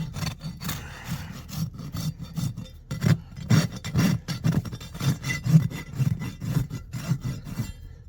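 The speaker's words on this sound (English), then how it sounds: "And you just get rid of that with your rasp." A farrier's rasp files the burr off the hoof wall of a massive draft horse in repeated close, rasping strokes with an uneven rhythm, with short pauses between passes.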